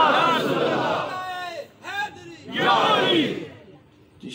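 A crowd at a devotional naat gathering in Narowal raising loud religious slogans in bursts, voices swelling together, with a pause between the two shouted waves.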